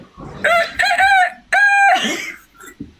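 A voice imitates a crowing rooster, a loud close drawn-out call in two bursts, followed by a brief trailing sound.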